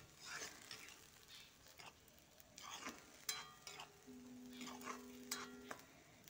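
Bhedailota leaves frying in a pan, a soft steady sizzle with scattered stirring scrapes and clinks throughout.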